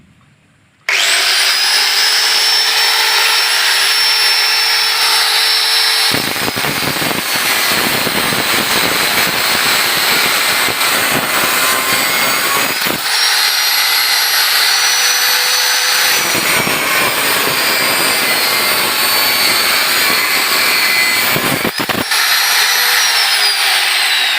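An angle grinder runs at a loud, steady high-pitched whine, its pitch shifting and dipping briefly several times as it bites and cuts, continuous and close for over twenty seconds with no talking.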